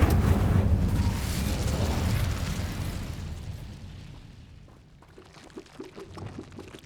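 Incendio fire spell in Hogwarts Legacy: a loud rushing, roaring burst of flame that gradually fades into quieter crackles and small pops, with no talk.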